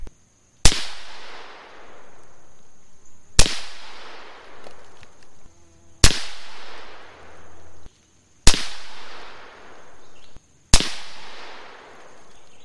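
Five sharp shots from a Savage 17 HMR rifle fired at a target, evenly spaced about two to three seconds apart. Each crack is loud and close and leaves a short decaying echo.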